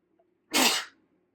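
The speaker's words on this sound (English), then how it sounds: "Confirmation sneeze." A single loud, close sneeze bursts out after a brief quiet moment, then fades to silence.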